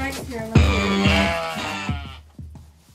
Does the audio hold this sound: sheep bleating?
yes